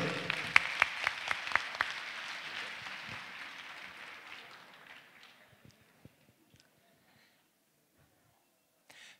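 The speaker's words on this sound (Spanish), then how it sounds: "Fuertes palmas para él." Audience applause for a university rector at the opening ceremony of a Peruvian chemical engineering student congress, a strong burst of crowd clapping that gradually thins out and fades to a few scattered claps before silence.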